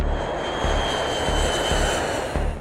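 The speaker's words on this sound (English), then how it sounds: "The second the plane touched down" An airplane landing and touching down, with a loud, continuous roar of aircraft engines and a few low thumps, no voices.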